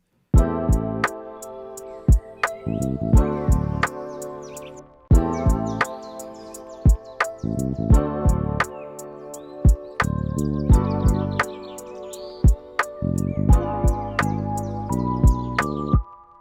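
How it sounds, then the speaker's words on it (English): Chirping bird sound effects layered over a lofi music beat with steady drum hits and sustained chords; bright, short tweets come in bursts above the music throughout. "So I decided to add some bird sounds for some atmosphere"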